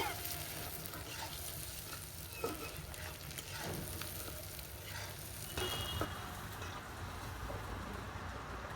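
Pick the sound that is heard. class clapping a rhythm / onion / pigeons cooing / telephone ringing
onion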